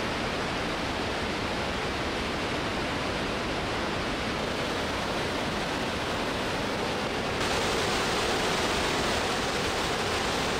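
The Schwarzwasser river in Oulanka National Park, Finland, rushes wildly through rocks in a narrow stretch, a dense, loud, unbroken roar of white water that swells slightly near the end.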